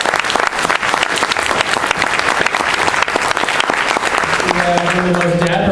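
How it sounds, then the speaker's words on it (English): Audience applause for a Marvel talent relations manager, loud dense clapping from a close crowd, with a brief voice and tonal sound creeping in near the end. "So round of applause for Bond"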